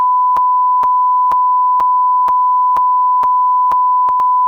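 A steady high-pitched censor beep tone runs unbroken and loud, punctuated by nine evenly spaced clicks, the last two close together, with no voices present.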